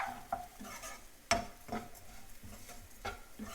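Banana flower and lentil usili is stirred in a pan until golden, the spoon scraping and clinking against the metal in irregular close-up strokes over a soft sizzle.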